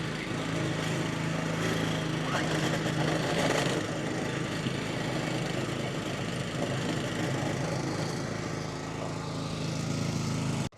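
A Honda engine on a lawn verticutter, unused for ten months, runs steadily at a loud, close, continuous drone for the whole stretch, cutting off abruptly at the end.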